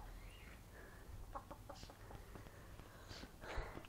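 Free-range chickens cluck and softly squawk in scattered bursts outdoors, fairly quiet and close, over a low background rumble.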